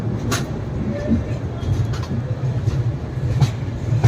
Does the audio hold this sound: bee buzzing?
no